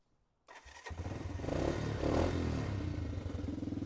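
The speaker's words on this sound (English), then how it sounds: "This is the modified exhaust." A 1978 Honda CT90 motorcycle with a modified aftermarket exhaust fires up after a brief silence and settles into a loud, rough, throaty idle with a rapid uneven pulse.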